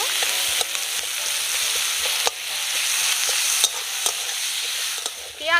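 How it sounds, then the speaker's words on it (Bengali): Onion, ginger and garlic with salt fry in a pan, a steady close sizzle broken by the scrape and clatter of stirring every second or so. "পেঁয়াজ আদা রসুন একেবারে ভালো করে কষিয়ে নেব।"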